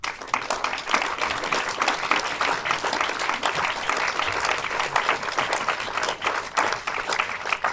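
An audience at a documentary film screening and debate applauds steadily and densely, a full room of clapping that holds at an even level throughout.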